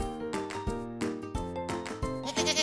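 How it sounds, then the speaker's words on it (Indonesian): A goat from a children's farm-animal learning series bleats in several wavering, harmonic calls one after another, loud and close, with no talk over it. "Kambing bahasa Inggrisnya goat."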